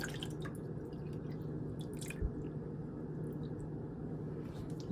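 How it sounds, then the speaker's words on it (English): Whey drips from strained homemade Greek yogurt in a colander, a scatter of faint, quick droplet taps over a low steady background hum, with one slightly louder plop midway. "So we're going to let it drip some more."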